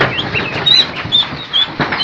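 Several ducklings give high, thin peeping calls in short repeated bursts, close by and fairly loud, with no talking.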